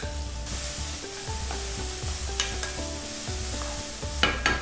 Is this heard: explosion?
no